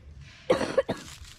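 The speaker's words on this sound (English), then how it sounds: "I have to cough" A few sharp, close coughs in quick succession break a quiet background, the last one weaker than the first.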